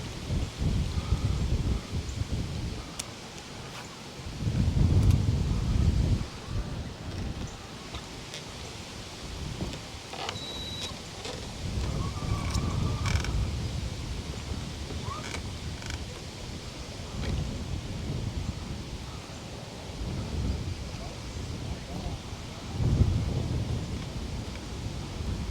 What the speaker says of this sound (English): Starting to get pretty windy.